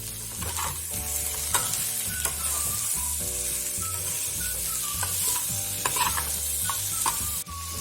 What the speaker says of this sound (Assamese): মাংসখিনি ভালদৰে ভাজি লম।